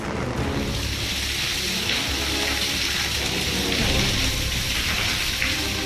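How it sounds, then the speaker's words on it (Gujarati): Heavy cyclone rain pours down in Odisha, a dense, steady hiss and roar of water that stays loud and unbroken throughout, with no voices. "અનેક વિસ્તારોમાં ભારે વરસાદ પડી રહ્યો છે."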